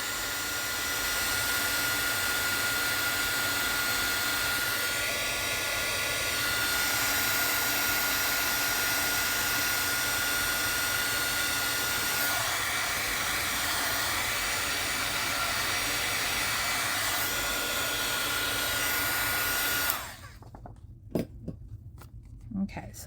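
A heat embossing tool blows steadily and loudly over a craft background resting on a silicone mat, a continuous hot-air whoosh lasting about twenty seconds before it switches off, followed by a few small clicks and handling sounds.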